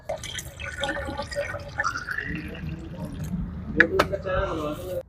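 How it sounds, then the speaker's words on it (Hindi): Washer fluid drips and trickles from a damaged wiper washer pipe on a Maruti Suzuki Brezza diesel during servicing: soft, irregular droplets and small splashes, with a few sharper taps near the end, under faint background sound. "अभी यहाँ से पानी लीक कर रहा है और ये है वाइपर वाला"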